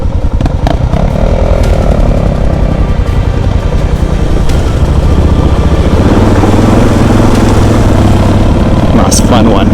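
A Suzuki DR650 motorcycle pushes through a forest creek, its engine chugging loud and close while water sloshes and splashes around it, with a rider's voice breaking in now and then.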